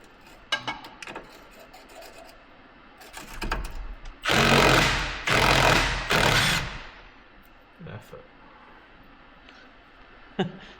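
A Milwaukee 3/8 inch cordless impact wrench, used on a Nissan, fires three loud, close, rapid hammering bursts back to back, with quieter clicks and knocks before and after.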